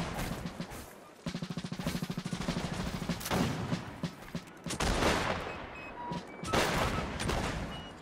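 Musket volleys crackle in a Napoleonic Wars online line battle, dense rattling bursts of many shots fired together, followed by further ragged waves of gunfire at close range.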